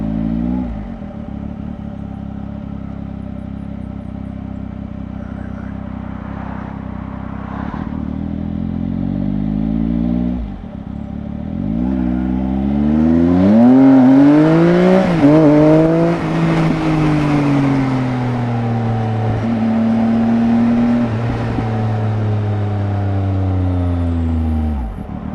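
Heard from a motorcycle ridden near Beacon Fell and Chipping, a steady engine drone is overtaken by passing traffic, with engine tones swelling and shifting as vehicles go by close, then settling back to a constant hum.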